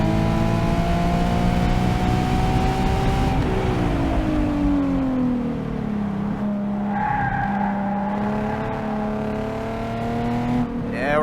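A Nissan 370Z with bolt-on upgrades driven hard on a race track, its engine droning loudly with rising and falling pitch through shifts, tires squealing faintly, heard from inside the car.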